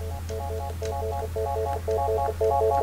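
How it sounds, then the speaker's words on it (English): A Polycom 450 desk phone rings in short repeated electronic tone bursts while its ring volume is stepped, the chirps growing gradually louder over a faint steady hum. "The phone will ring as you adjust the volume."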